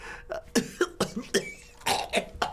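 A person coughs in a rapid series of about ten short, harsh bursts, close and fairly loud, with brief gaps between them.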